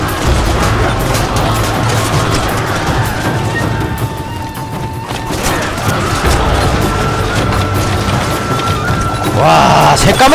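Massed musket volley in Total War: Shogun 2 battle, a dense crackling roar of many shots layered over continuous battle din, with a louder burst near the end; someone talks over it.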